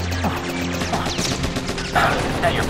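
Rapid bursts of gunfire in a war action video game, loud and close, rattling in quick volleys with crashing impacts and a music bed underneath, while a voice calls out briefly.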